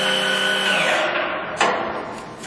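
A Kingston HJ series lathe with a 7.5 horsepower main drive spins at 2,000 RPM, a loud steady whine with tonal harmonics that winds down and fades after about a second, followed by a brief clunk and a lower residual hum.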